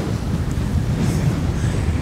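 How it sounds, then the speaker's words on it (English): Strong winter wind in Oklahoma buffets the microphone in a constant low roar, with faint surf-like rushing underneath. "And again, crazy windy out."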